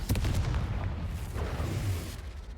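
A Confringo fire spell explodes in the Hogwarts Legacy video game, a burst of booming, crackling blasts at a poachers' camp, rumbling on for a couple of seconds with no talk.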